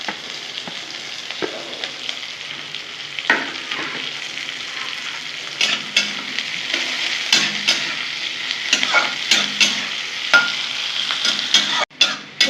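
Onions fry in hot oil until reddish-brown, a loud continuous sizzle with spatula scrapes and stirring knocks throughout, close up, with no voices.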